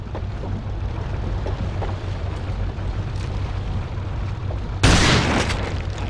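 A shotgun fires in the video game Resistance 3: one sudden loud blast near the end over a steady low rumbling ambience, with no talking.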